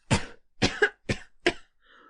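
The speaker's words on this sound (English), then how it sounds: "He coughs." A man coughs four times in a rough, spaced series, each burst fairly close and distinct, followed by a faint trailing sound in an old-fashioned stage play setting.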